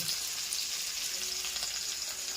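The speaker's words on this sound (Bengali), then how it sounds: "এই দেখতে পাচ্ছ পটল ভাজা হচ্ছে" Pointed gourd (potol) frying in a pan at home, a brief, steady bright sizzle heard close and fairly soft, no one speaking.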